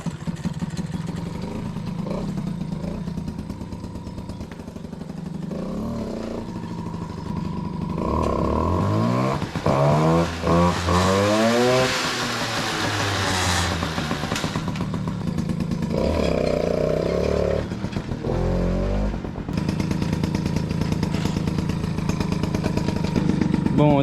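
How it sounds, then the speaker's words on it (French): Motorcycle fitted with a Doppler ER1 exhaust mounted very low, its engine idling and revving in rising and falling sweeps, loud and close, with a person talking over parts of it. "J'ai hâte d'entendre le bruit qu'elle fait. Bon le pot est vraiment bas par contre"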